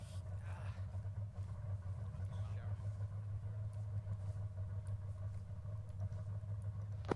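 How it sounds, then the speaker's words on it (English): A steady low engine rumble runs throughout, like a vehicle idling nearby, with faint higher hiss and scattered noises above it, from a video game. "what's that engine noise over here?"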